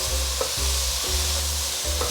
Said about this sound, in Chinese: 放进来后快速翻炒